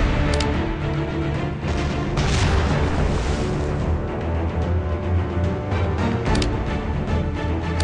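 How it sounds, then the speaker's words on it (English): Deep booming ship cannon blasts in the game Ocean Legend roll out over a dense, continuous rumble, with sharper bursts near the start and again toward the end, loud and close. "Prepare the cannons!"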